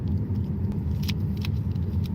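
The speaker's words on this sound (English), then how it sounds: "There's another car coming." A car on a dark night road approaches with a low, steady engine rumble and tyre noise, growing faintly with a few light clinking sounds on top.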